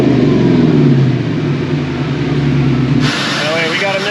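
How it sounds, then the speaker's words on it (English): Ford Mustang GT with the 4.6 V8 engine revving with a misfire, a loud, rough, uneven engine roar for about three seconds that then drops away as a voice takes over. "Oh wait, we got a misfire somewhere."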